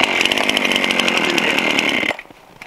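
A chainsaw with a dull chain cuts into a tree being felled on an off-grid homestead, a loud steady roaring buzz that cuts off abruptly near the end, leaving faint quiet.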